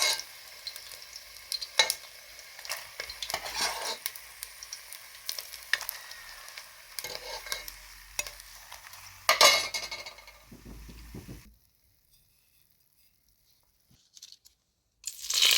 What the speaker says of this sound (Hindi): इनको अच्छे से मिक्स करना है, तेल में फ्राई करना है।